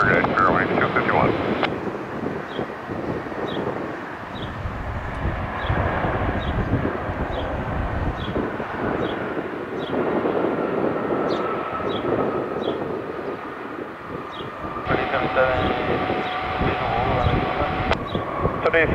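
An airliner takes off from a runway at Detroit Metro Airport, its engines a long, loud, sustained roar with a rising whine, while tower radio chatter cuts in and out over it.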